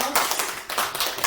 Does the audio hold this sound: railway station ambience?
no